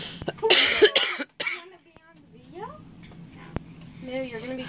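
A harsh burst of coughing up close, followed by quieter voices and a dog's whine in the background.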